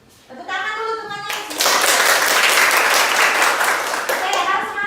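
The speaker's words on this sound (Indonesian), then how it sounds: "Tepuk tangan dulu temannya." Schoolchildren in a classroom burst into brisk group hand clapping for a classmate, loud and close for a few seconds, with a voice talking just before and as it fades.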